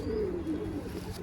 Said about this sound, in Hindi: ये दोस्तों ये कबूतर है